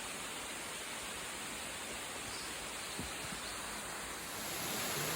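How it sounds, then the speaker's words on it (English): Waterfalls at the base of the Palenque Mayan ruins in Mexico give a steady, broad rushing hiss of falling water, unbroken and moderately distant. It rises slightly in the last second. "Waterfalls at the base of the Mayan city."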